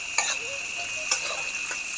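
Rice being stirred and fried in a pressure cooker in a village kitchen, with a few distinct scraping strokes over a soft continuous sizzle, close and moderately quiet, a steady high insect drone persisting in the background.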